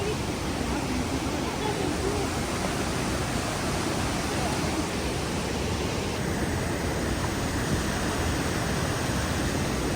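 Devi's Fall waterfall in Pokhara, Nepal, a dense, unbroken roar of rushing water that fills the whole clip, loud and steady, with faint voices buried in it.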